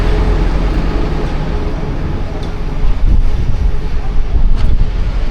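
Cold wind gusts across the microphone in a Sheffield city centre street, producing a loud, steady roaring rumble with stronger buffets in the second half.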